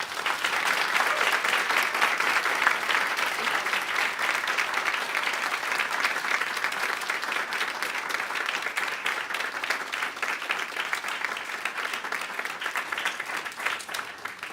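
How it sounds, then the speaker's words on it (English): An audience at a comics forum keynote applauds after the talk, dense, steady clapping from a roomful of people lasting the whole stretch and tapering slightly at the end. "Let's give Lucy a round of applause."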